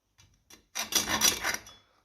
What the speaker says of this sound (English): we'll just put them back in loose and we'll just slot them with hacksaw